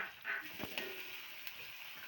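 Finely chopped ginger sizzles in a hot pan for a moru curry, a faint, steady hiss with a few light stirring clicks.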